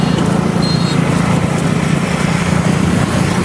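A new KTM motorcycle engine runs steadily as the bike arrives, a constant nearby buzzing drone at even loudness with no speech over it.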